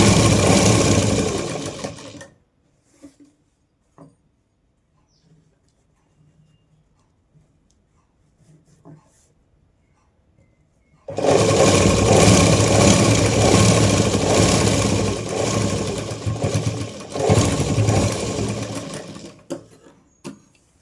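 An electric sewing machine stitches fabric in two loud, steady bursts, a two-second run, then a long quiet pause with faint handling, followed by about nine seconds of continuous whirring.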